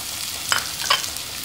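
Sausage and chicken fry in a pan and are stirred, with a faint steady sizzle broken by two short scraping stirs.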